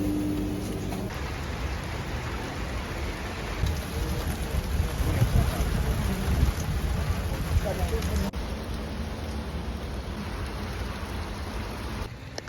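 Heavy rain pours steadily outdoors, a dense, even hiss of drops on surfaces that stays loud and constant throughout, with faint murmurs beneath it.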